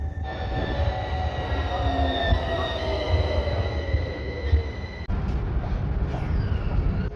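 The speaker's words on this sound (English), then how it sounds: "So it's onto the red line to Sigu Fix metro station." An Athens metro train on the red line rumbles steadily from inside the carriage, with a deep low roar, whining motor tones rising and falling, and a brief jolt partway through; no voices.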